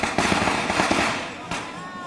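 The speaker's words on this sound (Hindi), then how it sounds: "अगल बगल भी खूब जल रहे हैं, खूब फूट रहे हैं, खूब फूट रहे हैं। चौतरफा आतिशबाजी खूब हो रही है।" Firecrackers and fireworks burst all around during a festival celebration, a dense, loud rattle of overlapping pops and bangs with a faint voice underneath.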